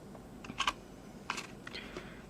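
A paper tag is punched with a hole punch, making a few quiet close clicks and crisp snaps spread over about two seconds.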